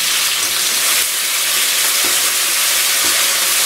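Dark soy sauce goes into chicken jalfrezi cooking in a hot pan, producing a loud, steady, close sizzle and hiss that fills the whole stretch, with faint stirring scrapes underneath.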